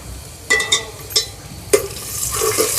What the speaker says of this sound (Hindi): ये देखिए अब हम ये लाल मिर्च डाल रहे हैं।